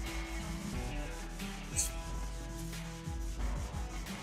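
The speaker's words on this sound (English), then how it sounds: "And I can feel the grit cutting. I'm not using any pressure. I'm just sanding." Steady hand sanding of a clear coat paint finish on a car, a continuous close rubbing scrape with small strokes and shifts in rhythm, alone without talk.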